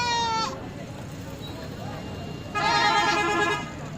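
Goats bleat at a Lahore livestock mandi, two loud nasal calls, one brief at the start and a longer one near the end, with low market chatter and crowd noise underneath.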